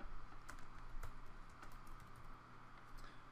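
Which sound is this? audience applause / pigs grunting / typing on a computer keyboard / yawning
typing on a computer keyboard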